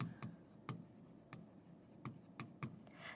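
Writing on a board during a biology lesson on red and white muscle: quick, quiet tapping and scratching strokes at an uneven rhythm, close up, with no talking.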